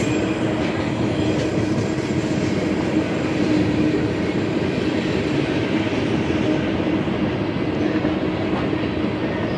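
A train rumbles past close by along Route 66, steady and loud, with rhythmic clickety-clack of wheels on rails and a faint metallic squeal.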